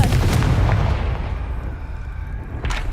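A Confringo spell blast in Hogwarts Legacy, a loud, booming fiery burst that rumbles and slowly decays, followed near the end by a second, sharper crack.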